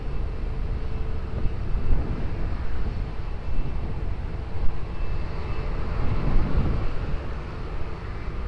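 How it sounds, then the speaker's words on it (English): A Ryanair airliner takes off at Lisbon Airport, its jet engines a steady broad roar that swells and rolls over several seconds, fairly close with no speech. "Ryanair 2095, wind 220 degrees 13 knots, runway 20, clear for takeoff."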